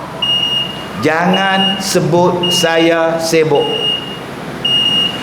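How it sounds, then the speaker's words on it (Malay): A steady electronic alarm beeps at a regular pace, marking the start of Muslim prayer time, heard behind a man preaching. "bunyi penggera waktu, menandakan masuknya waktu semayang"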